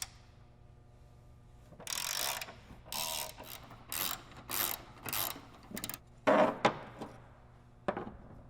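A ratchet wrench works bed bolts loose on a 2005-2023 Toyota Tacoma, giving about ten short bursts of clicking in a steady start-stop rhythm, close and fairly loud with quiet pauses between.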